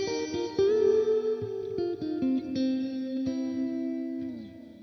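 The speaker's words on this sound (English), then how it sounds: "we turn it all the way up, we're getting a giant wash of reverb" Sustained guitar chords through a Xotic Stereo X-Blender with reverb fully wet, drenched in heavy reverb, notes blurring into a long shimmering wash that rings out and overlaps as each new chord is struck.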